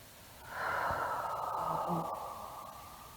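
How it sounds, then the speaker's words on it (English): One slow, deep exhale in a calm guided meditation, a soft breathy rush lasting over two seconds that gradually tapers off, heard close with no talking. "breathing out."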